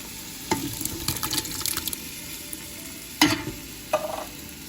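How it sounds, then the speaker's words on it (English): Two cans of diced tomatoes go into a simmering sauce in a quiet kitchen: a few brief, close splashy plops and scrapes stand out over a low steady background hiss. "I'm about to add 2 cans of diced tomatoes"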